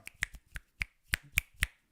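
Finger snaps within a song, about eight crisp, evenly spaced snaps in a steady rhythm, close and clear with little else around them.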